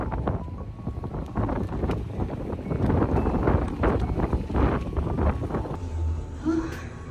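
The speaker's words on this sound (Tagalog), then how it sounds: "Biglang hangin sa labas." Gusty wind buffets the microphone with a rough, rumbling roar, steady and loud throughout.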